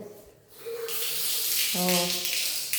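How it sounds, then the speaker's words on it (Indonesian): Water bursts from a tap in a household, starting after a brief pause and continuing as a steady loud rushing stream, with a tonal ringing whine joining midway. "airnya ngalir"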